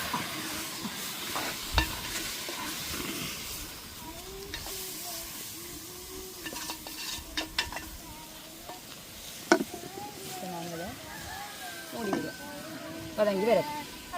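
Tomatoes salted and sautéing in a covered pan for tomato rice hiss and sizzle steadily, with occasional spoon clatters and stirring scrapes, close by, while a voice talks over the cooking.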